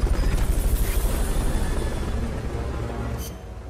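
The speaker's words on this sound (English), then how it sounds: "Fulton recovery helicopter is complete." Helicopter in the video game Metal Gear Solid Peace Walker, a close, loud rhythmic rotor thump pulsing steadily, then easing slightly toward the end.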